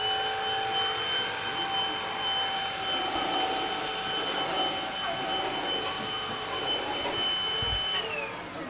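A cordless rechargeable vacuum cleaner runs steadily nearby, a continuous high-pitched whine and airy roar with no pauses or talk.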